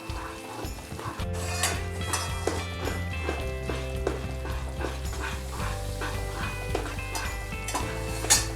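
Ghee goes into a kadai of thickening Mysore Pak mixture, giving a continuous sizzle with scraping, clinking stirring strokes throughout and no talk.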